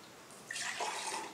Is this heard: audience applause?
no